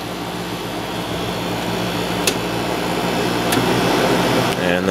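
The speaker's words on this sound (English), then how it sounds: "Here's how it's sounding now. It's been running for about a minute, maybe a little bit more." An LG 8000 BTU air conditioner runs with a steady, loud broadband whoosh and low hum, a constant mechanical drone throughout with a few faint clicks.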